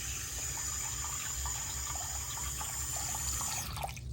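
Water runs steadily from a faucet into a sink fitted with a push-button drain stopper, a constant close hiss and splash that continues throughout with no voices.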